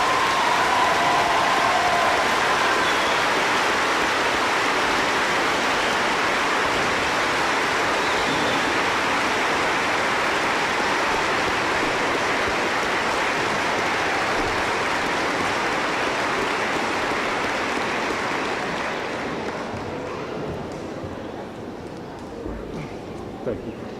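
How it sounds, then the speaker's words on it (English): A graduation crowd gives a long round of applause to a retiring assistant principal after 44 years. The clapping is loud, dense and sustained, then thins and fades in the last few seconds. "please give him a round of applause for 44 years"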